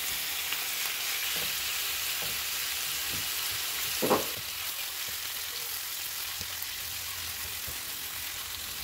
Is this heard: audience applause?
no